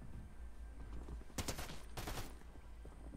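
Two close shotgun blasts from the Fortnite video game, each a loud, sharp burst about half a second apart, rising over a steady low background hum.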